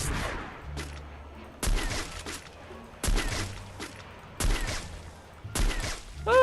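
Five bursts of video game gunfire at roughly even intervals, each a sharp crack trailing into a low rumble, with quieter gaps between.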